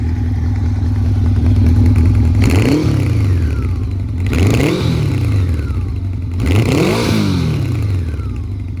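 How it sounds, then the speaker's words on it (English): A 1984 Honda Nighthawk S CB700SC motorcycle revs hard three times, each throaty exhaust burst rising and falling back to a rumbling idle, close and loud. "Let's see if we can get some exhaust noise here."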